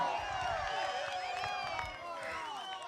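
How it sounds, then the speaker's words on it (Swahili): Supporters at an outdoor political party rally in Kenya clap and cheer together, a broad crowd roar with scattered claps swelling under amplified sound and holding steady for a few seconds. "Mpigeni makofi"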